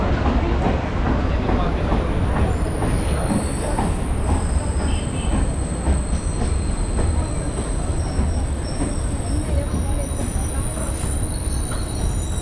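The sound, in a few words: train standing at railway station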